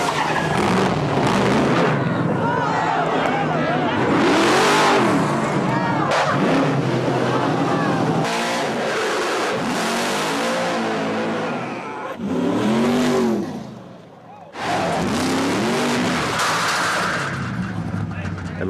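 Drill team racing trucks roar down the track at about 70 miles per hour, a loud, continuous engine rush that rises and falls in repeated surges, with a brief dip near the end before the roar returns.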